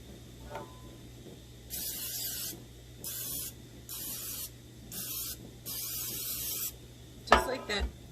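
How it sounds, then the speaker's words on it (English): Pam cooking spray hisses onto a pan in five short bursts of steady spray, each about a second long, followed by a clank of cookware; quiet background otherwise. "I'm just going to use the Pam spray"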